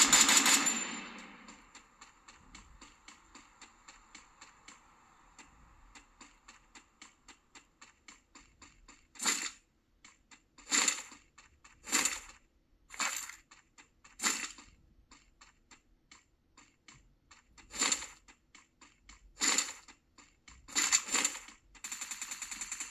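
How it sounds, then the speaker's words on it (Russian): Gunfire in a mobile shooter game on a Samsung Galaxy A35: a loud opening burst, then a faint rapid ticking and a string of sharp separate shots and short automatic bursts, no talking. "Где-то стреляют, не пойму где."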